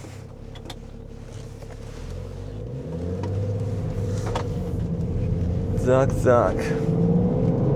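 A BMW X5 twin-turbo diesel pulls away, its engine rumble building steadily from low idle to a stronger drone, with a brief clatter near the end and a voice speaking over it.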